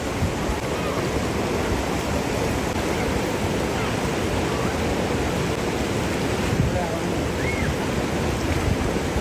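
Loud rushing river water in a Kashmir valley, a dense, continuous roar that fills the whole stretch without pause or spoken voices.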